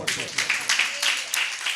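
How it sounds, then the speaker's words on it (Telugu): A church congregation claps hands during a Christmas sermon, a dense, steady patter of many palms filling the short stretch at moderate loudness with no speech over it. "కొట్టు చప్పట్లు."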